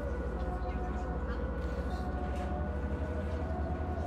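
Wailing ambulance siren in the Bus Simulator 16 driving game, a steady tonal sweep held over a low engine drone, moderately loud throughout with no talk.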